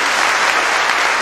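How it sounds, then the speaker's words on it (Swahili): A church congregation applauds loudly and steadily, a dense unbroken clatter of many hands close by. "Tumpe Bwana utukufu tena kwa makofi mengi"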